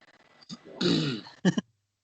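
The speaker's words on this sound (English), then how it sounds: "I've got a bit of a need to clear my throat today" A throat clearing with a couple of rough, gravelly bursts, followed by a short cough-like hack, close and alone against quiet.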